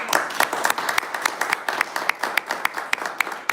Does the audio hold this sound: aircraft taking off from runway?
no